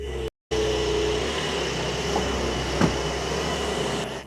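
A 2024 Porsche 911 Carrera 992.2 engine runs with a steady, continuous drone, briefly cut out near the start, with one short sharp knock midway.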